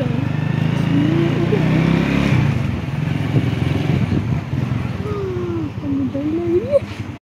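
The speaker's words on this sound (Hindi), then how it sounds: "हम दोनों को बिठा कर लेके जा रहे हैं बाइक पे" A motorbike carrying two riders drones steadily at close range, its engine rumble and road noise continuous throughout, with voices talking over it.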